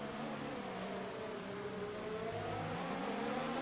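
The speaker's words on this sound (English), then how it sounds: "There we go, we can hear the cars." Formula 1 cars in the F1 2019 game race at the French Grand Prix in wet weather, a continuous whirring engine drone held steady and fairly quiet, with the pitch slowly rising as the cars accelerate.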